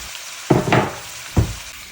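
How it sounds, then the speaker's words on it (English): Chicken hits a hot pan with a loud hiss, sizzling in two sharp bursts over a quieter steady crackle of frying oil. "get your chicken whacked in there and get that sizzling off"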